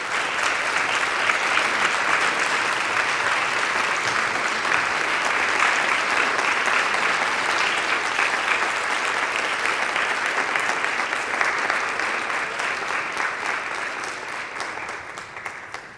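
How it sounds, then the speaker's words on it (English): Audience applause at a Charter Day ceremony in a chapel: steady, full clapping from a large crowd, sustained and then slowly tapering off near the end. "Please join me in giving them another round of applause."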